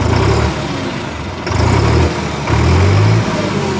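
A New Holland 3630 Special Edition tractor engine runs steadily nearby, a loud, even low hum that swells slightly in two or three brief surges as if given a little throttle.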